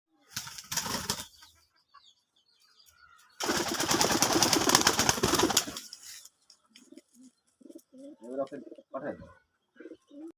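Hatbaji pigeons beat their wings in two loud, close flurries, a short one and then a longer one lasting about three seconds, followed by a run of soft, throaty coos.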